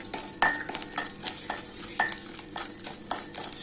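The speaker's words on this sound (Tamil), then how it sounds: "நம்ம பம்ப்கின் சீட்ஸு நல்லா வறுபட்டுச்சு" Pumpkin seeds roasting in a dry pan, stirred with a utensil that gives repeated sharp scrapes and clicks against the metal over a light rustling crackle.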